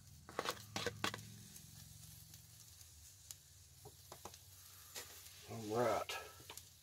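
Omelette with cheese, onions and tomatoes sizzling in a pan, a quiet steady fry broken by scraping and stirring of a utensil, with a louder spatula push near the end; close and fairly faint, no talk.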